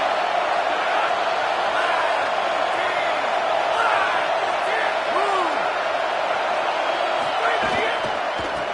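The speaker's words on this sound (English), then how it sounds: "this crowd trying to help keep them there" Steady roar of a football stadium crowd cheering and whooping to pin the opposing offense deep in its own end, a dense continuous wash of noise with a commentator talking over it.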